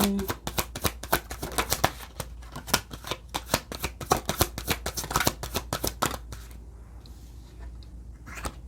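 Tarot cards being shuffled in rapid, crisp riffling bursts for about six seconds, close and fairly loud, then trailing off into near silence.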